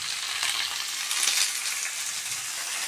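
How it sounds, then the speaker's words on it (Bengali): Panch phoron spices fry in hot oil in a pan before spinach goes in, a dense, steady crackling sizzle close up, continuous throughout with no voices. "তারপরে এগুলো ভাজছি"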